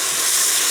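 Batter for a chocolate and coconut cake being stirred in a bowl, giving a steady, close, wet swishing hiss that runs without a break for under a second, with no voices.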